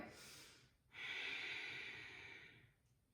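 Deep Ujjayi breathing during a yoga flow, a soft breathy inhale followed by a long, hissing exhale through a constricted throat, close and quiet with no talk.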